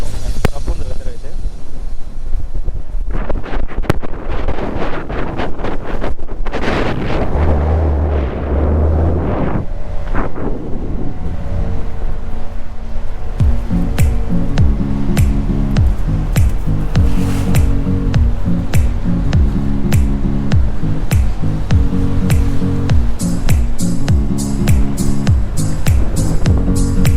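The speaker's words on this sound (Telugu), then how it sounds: "యూ కెన్ సీ విండ్ ఎలా బ్లో అవుతుందో" Strong wind in rough weather buffets the deck of a ship at sea, a loud, continuous roar with gusting rumble that never lets up.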